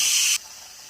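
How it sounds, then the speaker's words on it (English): A pressure cooker vents steam while soup cooks: a loud, close, bright hiss that cuts off abruptly partway through and leaves a faint residual rush. "we're going to get that steam released and then we'll be back."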